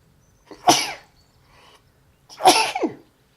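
Two sneezes, close and loud, about two seconds apart, each with a sharp sudden burst and nothing else in between.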